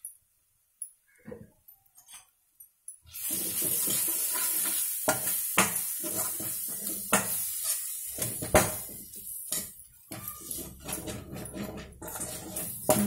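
Spices with chili powder, turmeric and salt fry in a pan for Telugu punugulu pulusu. A few soft taps come first, then a loud, continuous sizzle sets in with scraping and stirring clatter.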